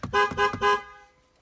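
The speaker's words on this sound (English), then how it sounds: "So this is going to be with the regular horn," A Ram pickup truck's stock horn honks three times in quick succession, short bursts with a slight tail fading after the last one.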